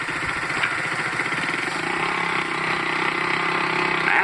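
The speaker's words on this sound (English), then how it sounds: "When clear, pull out onto the roadway and bring your motorcycle up through the gears to a safe speed." A motorcycle engine runs steadily at close range and rises in pitch as the rider pulls out onto a roadway and builds speed, the drone continuous with no voices.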